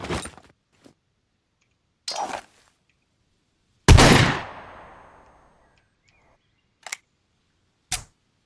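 Gunfire from a weapon in the video game Scum, a few sharp isolated shots spaced seconds apart, one louder blast with a long fading tail, no talking.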